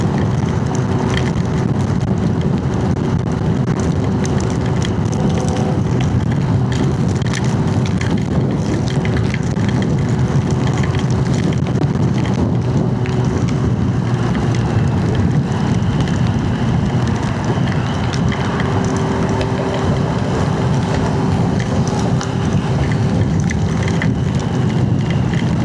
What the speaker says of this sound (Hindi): बारिश तेज़ हो गई है और अब हम यहाँ से एक एग्जिट ले लेते हैं।